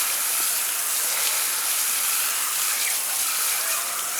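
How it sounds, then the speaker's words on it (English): Garden hose spraying water onto car tires outdoors, a steady, close, hissing rush with no breaks throughout. "I'm just going to be using a garden hose for this application"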